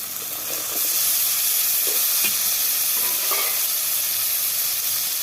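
Small diced potatoes sizzle steadily in hot oil with turmeric, cooking for Bengali vegetarian ghugni; a loud, even hiss carries throughout, with occasional faint clinks of stirring.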